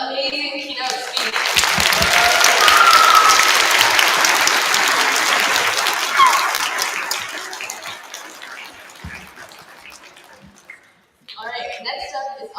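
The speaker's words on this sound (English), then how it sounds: "can we have another huge round of applause for that amazing keynote speech?" Large audience applause following a keynote speech at a school event, a dense sustained roar of clapping that swells early, holds loud, then tapers off before a brief pause and a fresh burst of clapping at the end.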